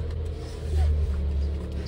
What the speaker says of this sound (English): I'm gonna start this baby up. And it's right here, you turn it to the right.